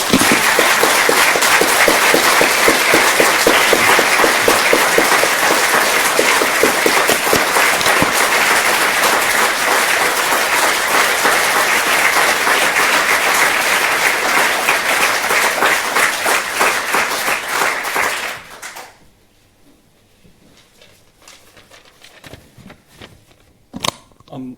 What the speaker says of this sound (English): And just a final round of applause.